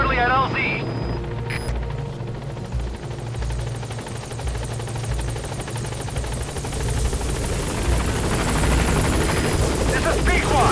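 Pequod, the transport helicopter in Metal Gear Solid V: The Phantom Pain, settles onto a landing zone with a loud, steady rotor thrum and engine whine that holds close and constant throughout, with a brief bright chirp near the start.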